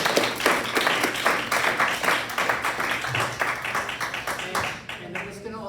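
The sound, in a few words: audience applause for speakers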